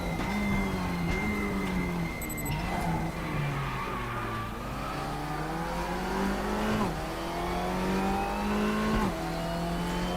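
Race car engine in RaceRoom Racing Experience revving continuously, its pitch climbing and dropping through repeated gear changes, loud and close with faint tyre noise.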